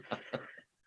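Two quick, rough coughs about a fifth of a second apart, close and fairly quiet, trailing off into silence.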